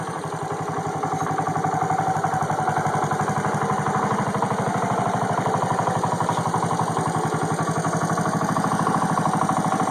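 A 1984 Honda ATC 125M three-wheeler engine idles at about 1000 RPM in a steady, close, even putt-putt that runs unbroken with no talking.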